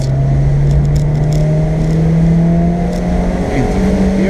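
A car accelerates out of a corner on the Nürburgring Nordschleife in the rain, its engine note rising steadily in a loud, close, continuous drone heard from inside the cabin, with no talk.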